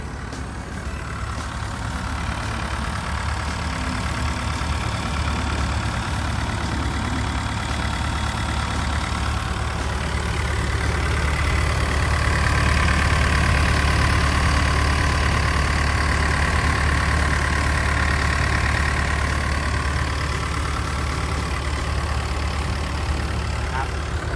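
A Hitachi ZW80-5B wheel loader's four-cylinder turbo diesel engine idles steadily with a deep, constant rumble and a faint whistle above it, running on without change.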